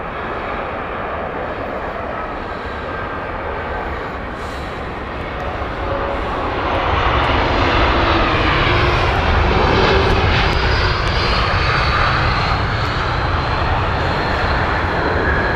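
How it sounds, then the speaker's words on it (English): An Air France Airbus A220-300 arriving on the Paris flight at Heathrow roars past, its engine noise swelling louder partway through and staying strong, alone without talk. "the A220 at 300 inbound next. This is with Air France, the Paris flight."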